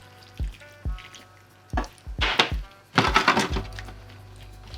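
A little water goes into a pan of kimchi tempeh, setting off sharp drips and clinks, then a burst of crackling sizzle that rises and fades over a few seconds, with no speech.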